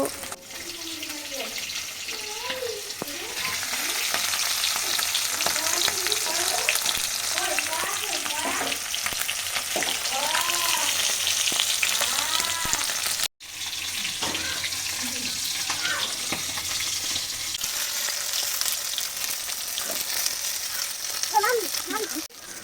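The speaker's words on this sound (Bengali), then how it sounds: "মা অল্প অল্প করে ভাজছে" Pieces of snakehead fish fry in a pan a few at a time, giving a continuous sizzling hiss with bubbling spatter, a brief break midway, and faint talk underneath.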